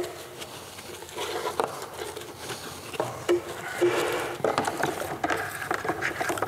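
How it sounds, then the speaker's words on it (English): Stiff boar's-hair bristles scrubbing against a Chevrolet Silverado 2500 tire in quick, uneven strokes, a close, raspy brushing sound with brief pauses between passes. "Boars hair brush."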